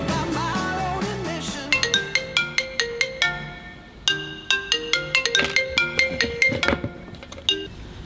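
A melodic ringtone plays repeatedly, a bright sequence of plucked electronic notes ringing out clearly and close by.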